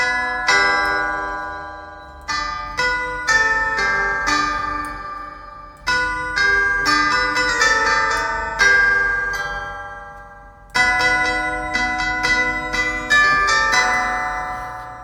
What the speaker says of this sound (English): Christmas doorbell chimes